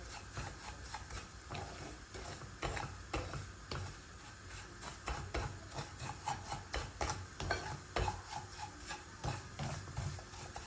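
Food being sautéed in a pan with about a tablespoon of oil, heard as steady, close scraping and stirring with frequent light clicks and taps over a soft, continuous hiss for about ten seconds.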